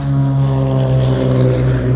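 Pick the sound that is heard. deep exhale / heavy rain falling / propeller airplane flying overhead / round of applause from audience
propeller airplane flying overhead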